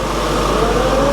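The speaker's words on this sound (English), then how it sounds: "the engine sounds great. Sounds really smooth, really nice." Mercedes SLK55 with a 5.5 litre V8, a damaged car, idling smoothly up close with a steady, even low rumble throughout, no talking.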